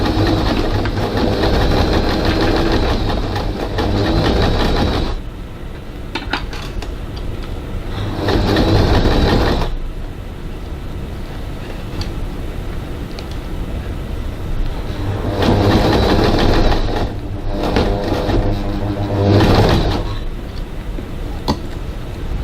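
Domestic sewing machine top stitching a bag flap 6mm from the seam line, a steady mechanical whirr running in long bursts, with pauses of quieter handling between runs.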